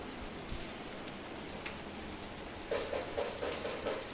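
Steady rain falls and patters on surfaces nearby; toward the end a series of short, faint tonal chirps sounds over it.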